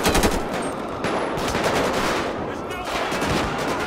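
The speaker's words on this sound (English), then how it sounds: "Dang, I hope the cops aren't shooting at me." Rapid, dense police gunfire in GTA 5, continuous automatic bursts crackling loudly and close with no break.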